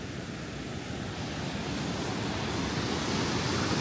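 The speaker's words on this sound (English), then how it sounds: "Nice clear water, falls." Twin Falls at Lynn Canyon pouring into a clear green pool, a steady broadband rush of falling water that swells slightly and fills the whole scene, with no voices.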